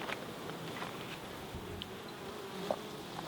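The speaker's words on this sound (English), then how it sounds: "It's a busy hive." Honeybees buzzing at the entrance of a busy hive housing a wild colony, a dense continuous drone of many wings at moderate distance, steady and even with no voices.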